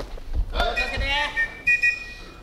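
A referee's whistle sounds at a Pancrase MMA fight to stop the clock, with shrill tones blown in short bursts over a commentator's excited talk and arena noise.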